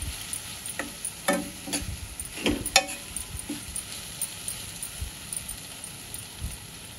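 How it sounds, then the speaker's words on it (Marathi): Raw mango rice with grated fresh coconut is stir-fried in a pan, giving a soft steady sizzle with a few sharp scrapes and clinks of the spatula, heard close and alone with no talking. "आणि पुन्हा हे आपण छान परतून घेऊया।"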